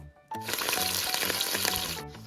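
Green chillies hit hot oil in a pan while cooking a Kadaknath chicken dish, bursting into a loud, steady close-up sizzle and crackle that runs unbroken for about two seconds before cutting off.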